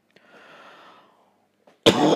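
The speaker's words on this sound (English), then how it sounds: "Sorry for coughing." A single loud, harsh cough bursts out close by after a soft breath, then cuts off.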